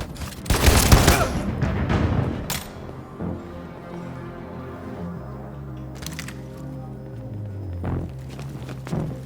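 Gunfire in the video game Detroit: Become Human: a loud burst of close, sharp shots early on, followed by quieter thuds and clatter, and a few softer cracks later against a low background.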